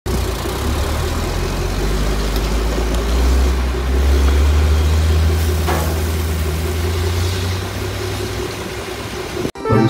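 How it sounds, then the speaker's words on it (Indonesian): A tanker truck's engine idles close by with a steady low rumbling drone that holds evenly throughout, briefly cut off near the end. "ini mobil tangki"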